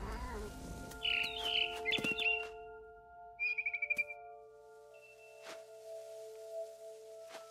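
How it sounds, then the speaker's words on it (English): Barn swallow in What Remains of Edith Finch chirping outside a window, several bright, quick bursts of twittering calls with pauses between them over a quiet, faintly humming background. "Then I heard chirping outside my window. It was a barn swallow going back to her nest."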